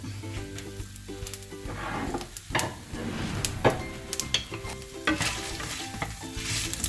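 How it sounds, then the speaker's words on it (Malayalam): Whole spices such as cardamom, black pepper, cloves, dried red chilli, ginger and garlic sizzle in oil in a pan while being stirred, with steady frying hiss broken by scraping strokes and light clatter, and a faint hum underneath. "ഏലക്ക, കുരുമുളക്, ഗ്രാമ്പു, വറ്റൽമുളക്, ഇഞ്ചി, വെളുത്തുള്ളി, അങ്ങനെ എല്ലാ സാധനവും നമുക്ക് ഈ പാനിലിടാം"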